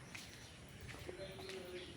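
A pigeon sitting on its nest gives a soft, low coo about midway through, faint and close, with quiet background rustle around it.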